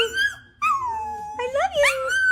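A dog on a whisper command lets out soft, high whines and small yips in short bursts, close by, with a voice briefly heard too.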